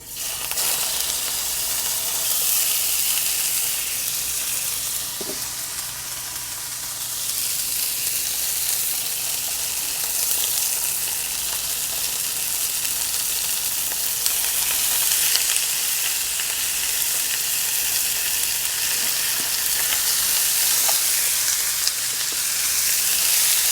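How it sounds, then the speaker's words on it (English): Stew meat browns in a skillet with a little cooking oil, giving a loud, continuous sizzle and hiss throughout with faint occasional stirring. "what we're doing here is just browning the meat"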